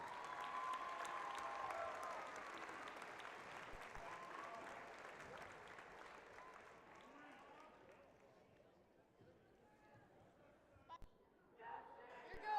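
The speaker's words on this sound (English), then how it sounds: "Let's give them one more round of applause to the senior and their parents." Audience applause in a high school gym at a basketball game, honoring senior players and their parents; loud sustained clapping and crowd noise that gradually fades, with scattered claps and chatter near the end.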